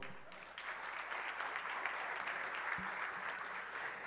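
Steady, dense applause from an audience at a keynote lecture, a continuous wash of many hands clapping at moderate distance with no speech over it.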